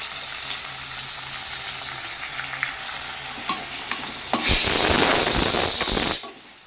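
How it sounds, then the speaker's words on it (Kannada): Three chopped tomatoes hitting hot oil in a pan for instant tomato sambar, a loud close sizzle with scraping stirs and clinks that swells into a sudden bright hissing burst before cutting off. "ನೆಕ್ಸ್ಟ್ ಇದಕ್ಕೆ ನಾವು ಹೆಚ್ಚಿದ್ದೆಲ್ಲ 3 ಟೊಮೆಟೊ ಅದನ್ನು ಹಾಕಬೇಕು"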